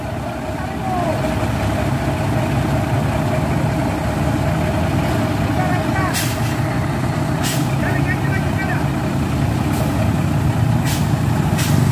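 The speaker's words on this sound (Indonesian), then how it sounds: "Ya tadi itu truknya ditarik ya." A heavy truck engine idling and rumbling steadily while a crashed truck is towed on the road, with sharp repeated beeps and brief air-brake hisses cutting through and people talking nearby.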